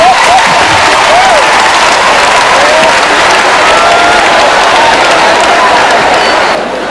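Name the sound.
audience applauding and cheering at comedy show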